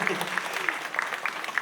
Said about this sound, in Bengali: জোরে হাততালি হবে এটার জন্য।